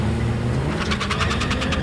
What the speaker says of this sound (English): A bit of wheel spin from both cars on that occasion.